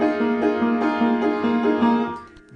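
A piano plays the bridge of a song, with the right hand stepping down a half step under the thumb. Evenly spaced notes repeat in a steady rhythm, clear and close, with no voices.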